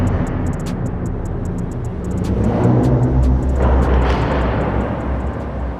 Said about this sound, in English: You hear the turbo spooling up and releasing.